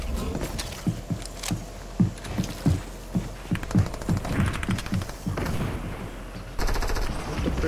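Bursts of gunfire from a gun in the video game Fortnite, rapid repeated shots in clusters with short pauses between them, loud and close.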